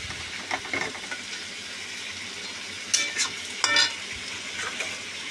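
Meat with spices frying in a pot for a thin curry, a continuous low sizzle broken by several sharper stirring scrapes and clatters, close and moderately loud.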